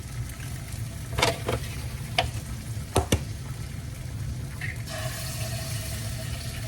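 Eggs cooking over easy in a pan, whites setting while yolks stay runny, give a steady close sizzle with a few sharp clatters of a utensil against the pan.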